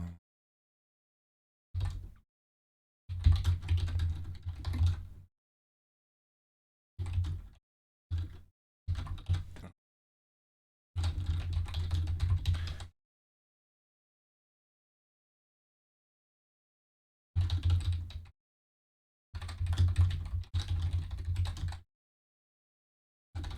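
Typing on a computer keyboard in separate bursts of rapid, close key clicks, broken by stretches of silence.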